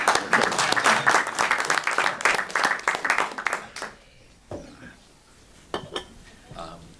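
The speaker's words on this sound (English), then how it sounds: "Well, let's give him some applause." A lecture audience gives a burst of dense, close hand-clapping that lasts several seconds, then thins to a few scattered claps with light background noise.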